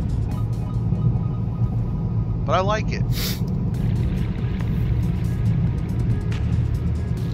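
2019 Toyota Corolla Hatchback XSE 2.0L with its muffler deleted, accelerating mildly on the road; a steady, low exhaust rumble carries throughout, heard from inside the car, with a short spoken remark partway through.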